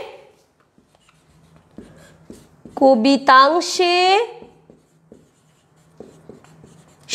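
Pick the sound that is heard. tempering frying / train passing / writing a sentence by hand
writing a sentence by hand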